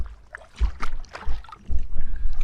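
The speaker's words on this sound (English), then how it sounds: "you can hear the wave chop on the front of the boat" Small waves slap and gurgle against the bow of a kayak on an exposed stretch of the River Stour in Kent, in a few irregular splashes, close up with wind noise.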